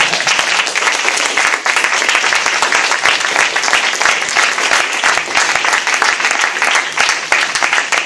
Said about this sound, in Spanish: ¿Podemos aplaudir?